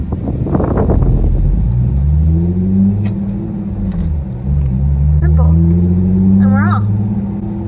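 A car engine revving and falling as gears are shifted, loud and close, with a rising pitch sweep and wind noise and a voice talking over it.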